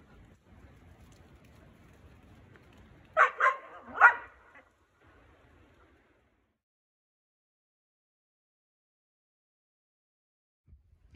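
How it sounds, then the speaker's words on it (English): Old Time Scotch Collie dogs barking outdoors, a short burst of three or four loud barks in the middle, with faint background noise before and near silence after. "There's the dogs."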